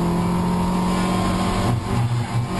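Toyota MR2 race cars compete at Brands Hatch, with a continuous loud engine roar and revving as cars drive past at speed, steady throughout with a slight dip near the end.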